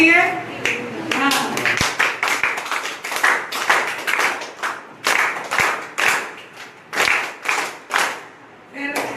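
An audience claps for an MLA at a spiritual-zone gathering, with bursts of applause that come in rhythmic waves and pause between them, loud and close, while a voice talks over parts of it.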